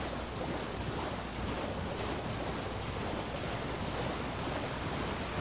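A waterfall and rushing water in Elden Ring, a steady, dense roar of falling water filling the whole clip without a break.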